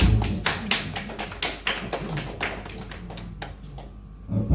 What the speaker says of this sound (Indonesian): Mari semuanya kita berikan tepuk tangan sebagai bentuk dari apresiasi.